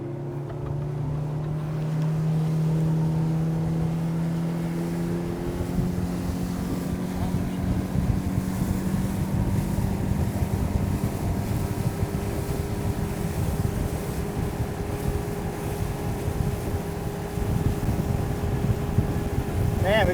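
Yamaha F60 outboard motor (converted from an F50) pushes a boat up from idle, engine tone climbing steadily under strong wind and water rush, loud and close for the whole stretch.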